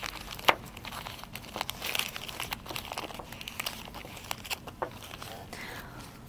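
Oil paper packaging being unwrapped from an injector valve assembly, with close, quiet crinkling and rustling in irregular bursts and a few sharper crackles.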